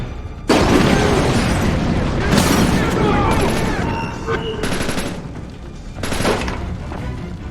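Loud grenade blast and bursts of gunfire in the stealth shooter Splinter Cell Conviction, a heavy boom followed by rolling, crackling volleys that swell and fade, with shouted in-game voices mixed in.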